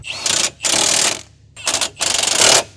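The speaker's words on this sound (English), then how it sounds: "tightening down all the bolts, which I'm doing right now" A power tool tightens bolts on a 2005 Subaru Forester during a suspension lowering job, firing in four loud, close, rattling bursts separated by short pauses.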